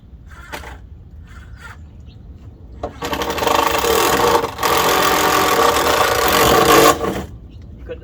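A DeWalt drill drives a screw into a gate being repaired, whirring loudly in two bursts of about four seconds total at close range, briefly pausing midway, with quieter handling noises before and after.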